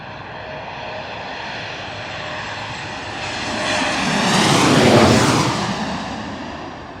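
A JetBlue airliner passes overhead at LaGuardia Airport in Queens, New York, its engine roar swelling loud to a peak and then easing off, with no talk over it.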